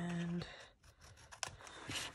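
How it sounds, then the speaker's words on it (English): Scissors snipping the corners of a paper folio for a handmade Christmas journal, a few close, brief crisp cuts amid quiet handling noise. "I'm gonna cut the corners here"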